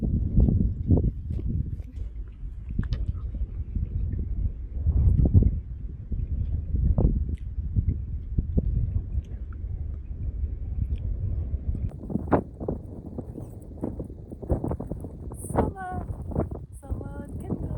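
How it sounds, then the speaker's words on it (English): Strong wind on an open Peak District hill at sunset, gusting and buffeting hard against the microphone in rough, uneven bursts, with a person talking over it. "it's so windy."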